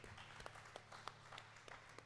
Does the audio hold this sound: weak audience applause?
yes